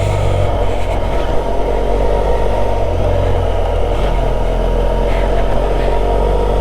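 A car drives along Usal Road, a gravel road on the Lost Coast of the Pacific Coast Highway, with a steady, close rumble of tires crunching on gravel and engine drone throughout, no voices.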